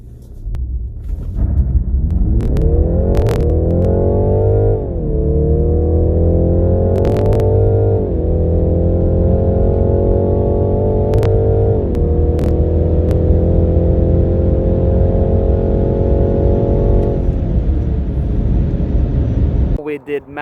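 A BMW G20 330e accelerates hard along a road, its drone climbing repeatedly in pitch and dropping briefly at each of several gear changes, loud and continuous for about twenty seconds.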